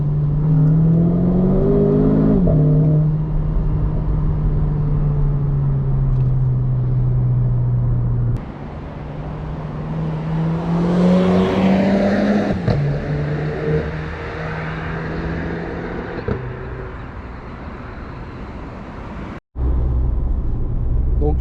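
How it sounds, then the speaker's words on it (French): A Renault Clio 4 RS Trophy engine climbs toward 6000 rpm while driving, a loud, close drone that rises in pitch, drops abruptly at gear changes and climbs again, with a brief cutout near the end. "La voiture elle monte dans les 6000 tours minutes."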